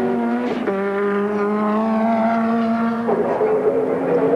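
A Ford Sierra touring race car at full speed on Conrod Straight at Bathurst during the 1991 Bathurst 1000, its engine a loud steady high drone with one brief gear change, then rising again near the end.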